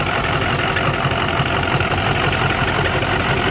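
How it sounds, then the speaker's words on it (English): A hotshot truck engine, just fitted with a new radiator and with a suspected turbo problem, idles with a steady, loud, rough rumble and shaking throb close to the microphone, with no voices. "Engine is shaking like whole motor just"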